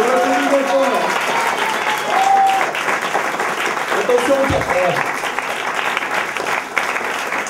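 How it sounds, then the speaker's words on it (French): An audience at an evening gala in Château-Chalon breaks into sustained applause, loud and continuous, while a presenter's voice speaks over it. "On applaudit bien fort."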